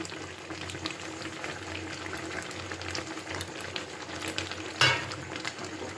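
A tangy olive pickle mixture with half-ground spices bubbles and simmers in a pan, giving a steady soft boiling hiss with a brief sharp clink partway through and no voices.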